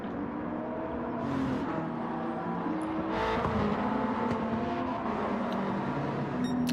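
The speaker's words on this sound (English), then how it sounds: "Supra with a Pagani engine in it." Toyota Supra fitted with a Pagani engine at a boy racer night: a sustained engine drone that swells and revs, with a few brief higher whooshes of cars passing nearby.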